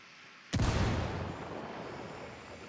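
A frag grenade detonates in the video game Ghost Wars: one sudden, heavy boom that rolls into a long, rumbling decay which fades slowly without fully dying out.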